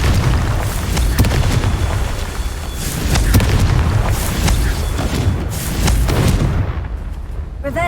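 A fiery Confringo spell explosion in the game Hogwarts Legacy, booming repeatedly with heavy low rumble and sharp bursts through most of the clip, loud and close, then tailing off near the end.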